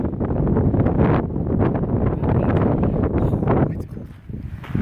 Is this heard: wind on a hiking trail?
yes